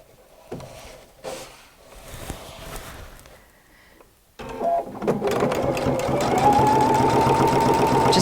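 A PFAFF creative icon sewing machine stitching down a pleat through three layers of heavyweight denim, starting after a quieter stretch with a sudden close, steady rapid mechanical whir that runs loud to the end.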